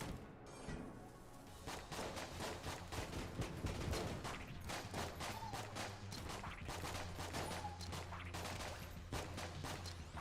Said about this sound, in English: I got the wrong gun out. I was like, damn, why am I shooting so fast?